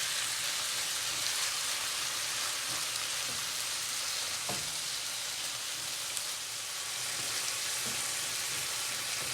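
Minced meat (keema) for an Indian keema curry sizzling and frying in a pan while it is stirred: a steady, dense, close hiss throughout, broken by a few faint scrapes and clicks of the spoon, with no talking.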